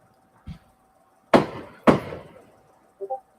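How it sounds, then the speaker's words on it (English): Firework mortars go off nearby: two loud, sharp booms in quick succession with brief decaying tails, bracketed by a soft thud before and a faint short sound after. "Neighbors are starting to fire off mortars."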